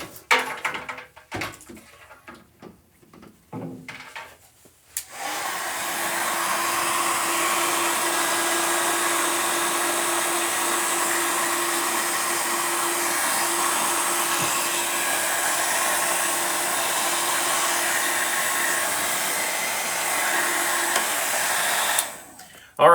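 A Vidal Sassoon hair dryer whirs loudly and steadily with a constant hum for about seventeen seconds after some brief handling knocks, then cuts off near the end.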